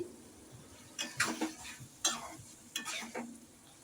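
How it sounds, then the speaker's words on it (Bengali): Chopped tomatoes frying with spices in a pan, stirred in a few separate scraping strokes over a faint sizzle, close and quiet, with no talking. "টমেটোটা কিছুক্ষণ মশলার সাথে ভালো করে কষিয়ে নেব আমি"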